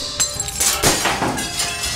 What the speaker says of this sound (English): Smashing the furniture.